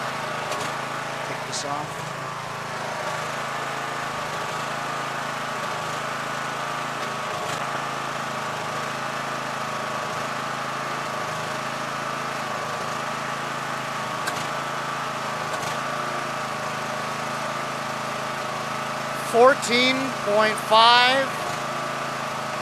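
Yard Machines MTD riding mower with a 20HP Briggs engine held at full throttle, a steady loud droning hum throughout, with someone briefly speaking near the end.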